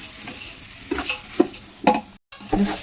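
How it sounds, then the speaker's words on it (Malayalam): Rice is stirred and roasted in a pan over high flame, with close scraping and clattering strokes of a spoon against the pan over a low sizzle, coming in uneven bursts with a brief pause. "ഇത് അഞ്ച് മിനിറ്റ് ഹൈ ഫ്ലെയിമിൽ ഇങ്ങനെ നന്നെ ഇളക്കിക്കൊണ്ടിരിക്കണം കേട്ടോ"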